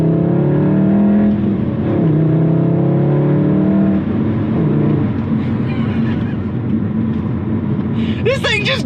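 MK7 VW Golf R pulling hard from inside the cabin, a steady engine drone rising in pitch through the gears, close and loud, with a voice talking over it.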